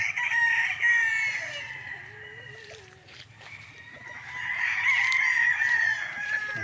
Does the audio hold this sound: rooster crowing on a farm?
yes